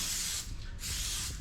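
Spray hisses close up onto a door panel in two bursts with a brief pause in between.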